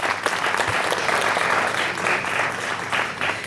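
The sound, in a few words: audience applause for the principal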